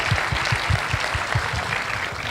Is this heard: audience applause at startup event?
yes